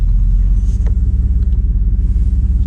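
An old car engine with 241,000 miles idling roughly up close, a loud, low, uneven rumble with a lumpy pulsing beat and no talking.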